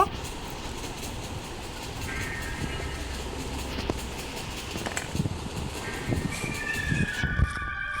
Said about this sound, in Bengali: ট্রেনে এখনই এখানে আসবে, আসতে বেশিক্ষণ লাগবে না